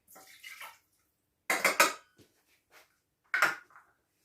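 Water poured into a pot of pizza sauce seasoned with oregano and rosemary, heard as a few short splashing bursts with light clinks of the pot, close by and with no talking.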